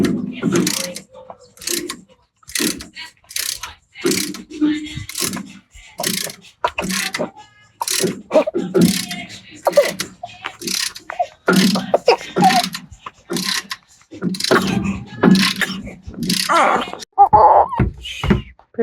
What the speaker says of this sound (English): you just slide it in there like so, and you just ratchet it